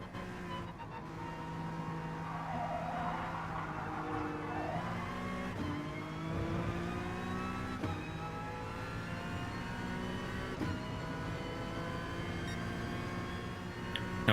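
Race car engine in GT Sport during a Nations Series online race, a continuous loud high-revving drone with repeated upshifts and downshifts as the car is pushed hard to catch the driver ahead, no talking.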